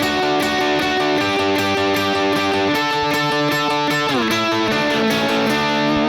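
Electric guitar playing the interlude of a song with a distorted, effects-heavy tone. Sustained chords shift every couple of seconds under a steady, loud wash, with no talking.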